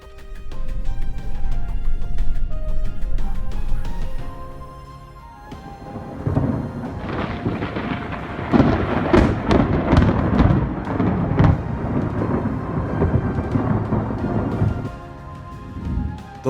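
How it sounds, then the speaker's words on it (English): Thunderstorm over Mildura, Australia: a long, loud rolling thunder rumble opens, then dense, heavy rain with repeated crackling thunder claps and booms carries on steadily to the end, with no voices. "The lightning storm illuminating Mildura wasn't just about the light."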